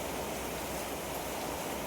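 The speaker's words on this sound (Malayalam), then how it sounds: "നല്ല മഴയാണ്" Heavy rain pours in a steady, dense hiss that fills every moment, continuous and even, with no voices or other sounds standing out.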